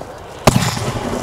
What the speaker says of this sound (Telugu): బీభత్సంగా పేలింది.